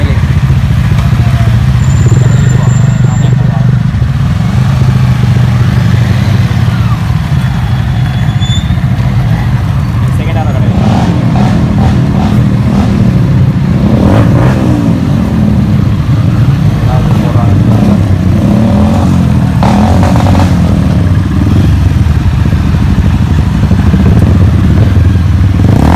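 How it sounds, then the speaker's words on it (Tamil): Motorcycles at a riders' club anniversary event, with a loud, constant engine rumble close by as a bike arrives and revs, and voices talking and calling over the noise. "ப்ரோ என் வண்டி வருது பாருங்கள் ப்ரோ கண்ணிலே"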